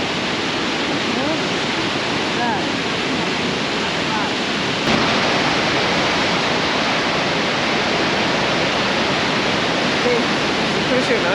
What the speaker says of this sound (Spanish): Mira cómo cae el agua, tío.